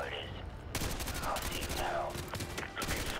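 Gunfire in the Modern Warfare 2 campaign remastered: dense, continuous bursts of automatic weapon fire close by, with a steady tone and background battle noise throughout.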